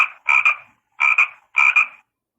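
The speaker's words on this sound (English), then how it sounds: "frog," A frog croaks three times in an even rhythm, each call a short doubled croak, clear and close against silence.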